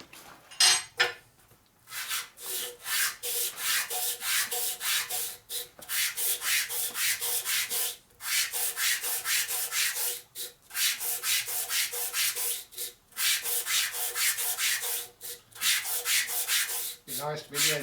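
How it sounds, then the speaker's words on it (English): A Harley panhead rocker arm is sanded by hand in long rhythmic rasping strokes, steady bursts separated by brief pauses, close and dominant. "More sanding."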